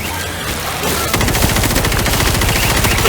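In World War Z's Horde Mode, players fire at a large zombie swarm: after a brief lull, rapid automatic gunfire hammers on loud and unbroken, with shots packed tightly together.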